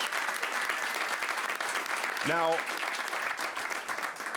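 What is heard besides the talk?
audience applause at a magic show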